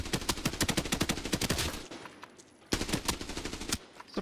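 Video game M16/M4 rifle fitted with an ACOG scope, firing loud rapid automatic bursts: a long stream of evenly spaced shots, a brief pause, then a second burst.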